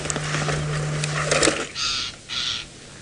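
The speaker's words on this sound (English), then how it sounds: "we've got a beautiful bird, a lilac-breasted roller. You can possibly hear its partner calling nearby" A lilac-breasted roller calls on a sunset safari drive at Tingana, with two harsh, rasping calls close together in the second half over steady outdoor background noise.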